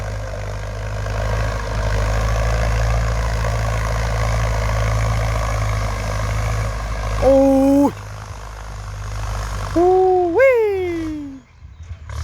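A Ford tractor ploughs a field for hire, its engine giving a steady, loud drone throughout, with a few sharp tonal squeals or horn-like notes near the end.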